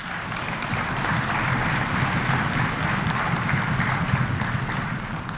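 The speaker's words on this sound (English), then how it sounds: "Please give them a round of applause" Steady applause fills a high school honors concert hall, a dense, even wash of many hands clapping that holds without a break, with a faint murmur of voices underneath.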